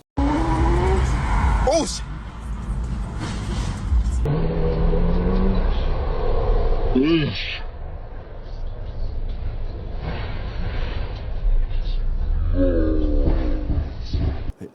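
Ferrari F40 skidding and crashing, with tire squeal and engine revving under continuous talk and commentary throughout, the skid rising in short sweeping squeals.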